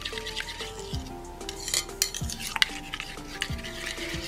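A whisk or spoon works through a mustard vinaigrette of vinegar and olive oil in a bowl, making repeated close scraping and clinking strokes in an uneven rhythm, with no voices.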